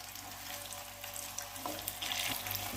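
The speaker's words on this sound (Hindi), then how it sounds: "अभी तकरीबन ये देखें आवाज़ आना शुरू हो गई है। अभी ये हमारे एग जो है ये फ्राई हो चुके हैं।" Boiled eggs frying in hot oil for egg kofta, a continuous crackling sizzle with a few stronger pops and light stirring noise, no talking.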